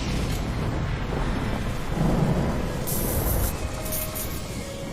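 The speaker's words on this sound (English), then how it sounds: "Storm blows the Toad up with lightning" Deep rumbling thunder from a lightning strike rolls on steadily under broadband noise, swelling louder around the middle before easing off, with a faint hiss of rain throughout.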